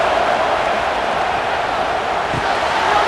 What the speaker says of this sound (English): And here comes the noise. This crowd is trying to inspire this defense to make a big red zone stop.